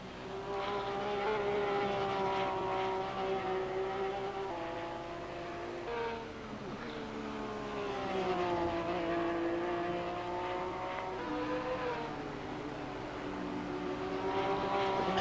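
A Porsche race car's engine drones at Brands Hatch in a racing video game, a steady tonal whine rising and falling with gear shifts and throttle through corners, heard continuously and fairly close.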